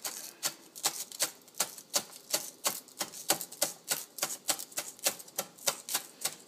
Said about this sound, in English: Just kind of chopping them finely.